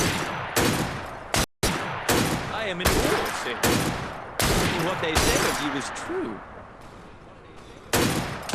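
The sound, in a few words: gunshots in Assassin's Creed Syndicate video game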